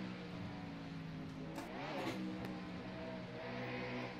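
A K&N East Series race car engine at New Hampshire in the NR2003 racing game drones steadily at mid pitch, with a brief rising rev in the middle and no talking.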